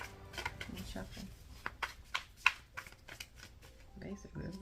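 Tarot cards being shuffled by hand, a series of quick riffling and slapping bursts at close range with soft rustles between, under a quiet background.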